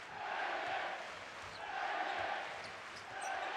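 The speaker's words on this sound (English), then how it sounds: "So the crowd really getting into it here in Venice." A basketball arena crowd in Venice chants and cheers in rhythmic swells during a Basketball Champions League game, a broad roar rising and falling roughly every second and a half, with sneaker squeaks and faint talk.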